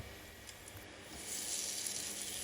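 Pumpkin potato pancakes hit hot oil in a pan, a soft steady sizzle that swells a little louder partway through and continues alone at low volume.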